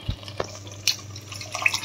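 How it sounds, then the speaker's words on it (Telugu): Strained rasam is poured into cooked dal with tempering and vegetables in a home kitchen: a few brief, close liquid splashes and drips over about two seconds in an otherwise quiet room. "చారుని ఇప్పుడు అందులో పోసుకుందాం."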